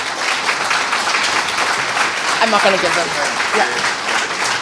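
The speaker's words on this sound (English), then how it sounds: "we'll give our panelists one more round of applause" Audience at an Indigenous cleaner energy forum claps steadily for the panelists, a continuous loud patter with a voice briefly speaking over the middle.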